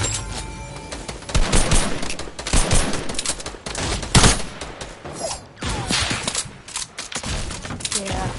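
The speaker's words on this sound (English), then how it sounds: "I'm getting shot from behind." Video game gunfire crackles in dense bursts of rifle and machine-gun shots, with a few heavy thumps between them and some short quieter gaps, sounding close and loud.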